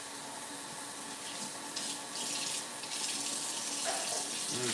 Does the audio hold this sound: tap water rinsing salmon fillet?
yes